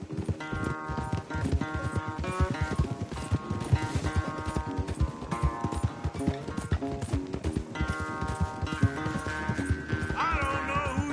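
Horses gallop at full race pace in Red Dead Redemption 2, with hooves drumming in a fast, steady clip-clop under loud game music and an occasional whinny.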